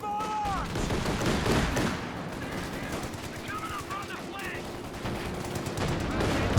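Pathfinder infantry fire BAR rifles in the Company of Heroes 2 strategy game, bursts of automatic gunfire mixed with other battle sounds and in-game voice callouts, moderately loud over continuous combat noise.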